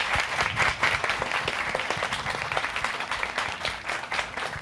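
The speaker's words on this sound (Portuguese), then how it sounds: "Palmas para nós." Audience applause at a Portuguese-language youth literary academy panel discussion in Araxá, a dense, steady patter of many hands clapping, close and continuous throughout.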